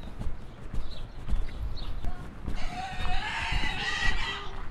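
A pig squeals loudly in a neighbourhood of Mar del Plata, Argentina, with a rising, harsh cry in the latter half over clattering footsteps and outdoor background noise.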